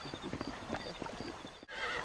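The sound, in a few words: horse neighing in Red Dead Redemption video game cutscene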